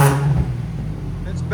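A 2007 Infiniti G37 with a Z1 Motorsports cat-back exhaust runs with a low, steady engine drone over a brief moment, loud and close, with a slight rise near the start.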